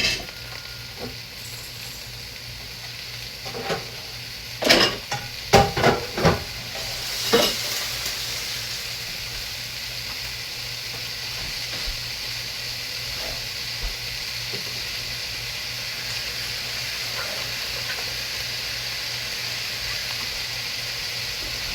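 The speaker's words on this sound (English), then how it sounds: "we're going to dump it into our stir fry" Pork stir fry sizzles steadily in a hot pan, a continuous hiss broken by a cluster of sharp clatters and stirring scrapes early on, then settling into an even frying sound.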